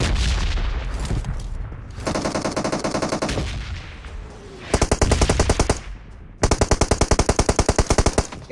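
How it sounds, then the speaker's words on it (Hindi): Gunfire in the BGMI mobile battle royale game: loud automatic bursts and rapid rattling volleys in several runs, with a distant boom-like rumble early on. "ए तू बैकअप फायर करना करण,"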